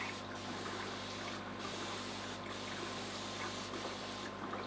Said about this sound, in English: Okay, so we'll spray the rest of the glass. Just got this on a very light mist.